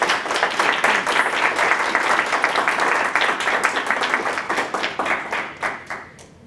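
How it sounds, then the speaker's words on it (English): Lively applause from an audience after a talk on touring Vietnam by bicycle, many close hands clapping in a dense, sustained burst that tapers off at the end. "Let's applaud"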